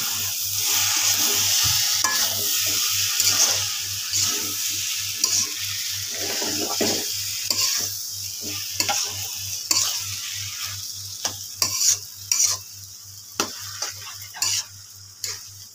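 Noodles with egg, chili and onion being stirred and fried in a pan: a continuous close sizzle with scraping stirs, turning into a run of sharp, irregular spatula clicks and taps toward the end.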